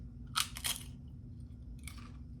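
A few crisp crunches close by as homemade potato chips are chewed, two quick bites followed by a pause and another crunch, in a quiet room.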